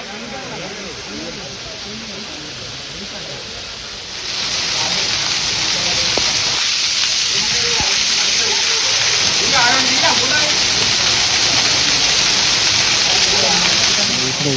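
The Sabbitham (Gourigundam) waterfall near Peddapalli flows with a broad, continuous roaring rush that swells louder after a few seconds, and voices are heard faintly beneath the water.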